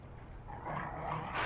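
A dog in the video game Lies of P, a short bark-like yelp or whine rising near the end of a noisy game soundscape, moderately loud.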